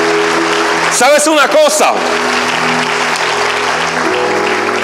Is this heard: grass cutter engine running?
no